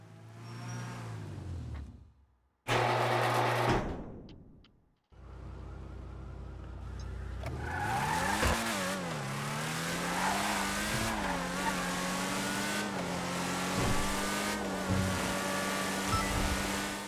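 A Principe Deveste Eight supercar in Grand Theft Auto 5 revs hard, its engine pitch climbing and dropping through gear changes, loud and close, after a few abrupt cuts at the start.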